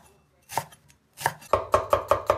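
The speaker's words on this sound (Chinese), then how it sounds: "大葱斜切成段" A kitchen knife cuts scallion into diagonal segments on a cutting board. Two separate thuds are followed by five quick, evenly spaced chops, close up and crisp.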